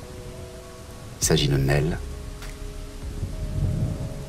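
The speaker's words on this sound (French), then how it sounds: "La pluie te détrempe jusqu'aux os, ce sont des grosses gouttes qui coulent et qui pénètrent comme ça le tissu de tes vêtements." Heavy rain pours steadily while a loud thunderclap booms and rumbles partway through, with a voice speaking over the storm.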